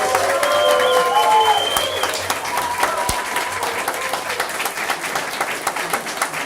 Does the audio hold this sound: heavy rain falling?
no